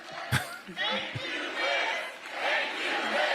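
A crowd applauds and cheers at length, loud shouts and roaring mixed with clapping that swells and rolls on, a sharp burst near the start.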